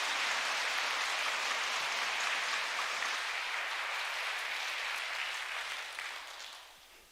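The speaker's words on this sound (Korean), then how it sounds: "감사의 박수를 한번 크게 올려드리겠습니다" Congregational applause at a Korean church worship ceremony, a dense sustained clapping from a large crowd that holds steady and then fades out toward the end.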